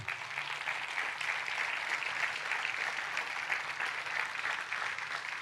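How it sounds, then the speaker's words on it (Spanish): A church congregation applauds during a sermon, a steady wash of clapping heard from some distance at moderate, even loudness for several seconds without speech. "Denle un fuerte aplauso a Dios por eso"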